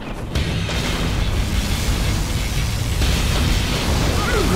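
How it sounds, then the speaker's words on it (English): A particle cannon fires in C&C Generals Zero Hour, a loud, sustained roaring blast with rumbling low end and crackling bursts that continues throughout the stretch. "Particle cannon activated."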